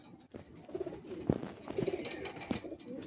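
Pigeons coo in a low, repeated rhythm at a pigeon sale in Bagnan, Howrah, where desi and Madrasi birds are shown, including a white male with torn wing feathers; several soft, close calls come and go against a quiet background.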